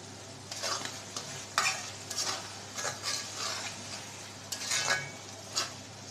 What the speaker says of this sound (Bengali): মচমচা করে ভেজে নিতে হবে